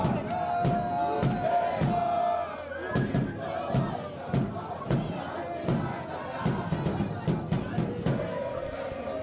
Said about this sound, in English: And now the home crowd, students just trying to warm up the crowd